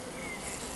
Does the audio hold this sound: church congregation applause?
no